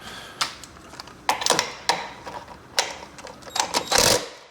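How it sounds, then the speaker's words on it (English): A hand ratchet snugs down a bolt on the primary drive of a 1974 Harley-Davidson FXE Shovelhead Super Glide, giving close, crisp clicking bursts in irregular short runs with pauses between and no talk. "Put actual hand ratchet on there, snug that down"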